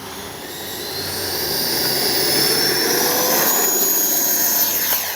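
E-flite 90mm Viper RC jet in flight, its turbine-like whine building over the first two seconds and then holding steady and loud, with a rising high whistle sweeping across the sound.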